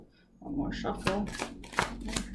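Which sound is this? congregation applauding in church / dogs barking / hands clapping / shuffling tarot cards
shuffling tarot cards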